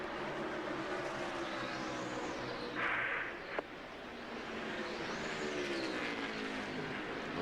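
NASCAR stock cars racing at the 2001 MBNA Cal Ripken Jr. 400, with engines roaring past in rising and falling sweeps over a constant broad crowd and track roar.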